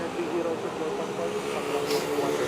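An airliner taking off from Manila airport, bound for Riyadh, a steady distant engine roar that holds level throughout, with people talking over it.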